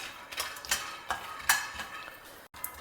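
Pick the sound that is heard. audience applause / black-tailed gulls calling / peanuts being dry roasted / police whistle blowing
peanuts being dry roasted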